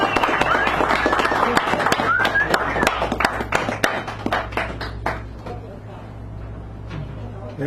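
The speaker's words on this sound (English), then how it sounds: "give a nice round of applause" A cafe audience claps after a poetry reading: dense, close applause that thins out over several seconds, with voices mixed in underneath.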